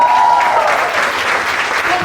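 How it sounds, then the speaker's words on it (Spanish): Applause from a church congregation fills the space, dense and steady throughout with a constant roar of many hands, while a voice briefly rises over it near the start. "vamos a darle un aplauso"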